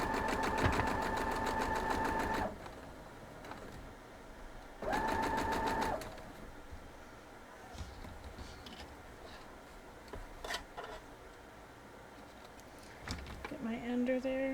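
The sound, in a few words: sewing machine stitching a quilt block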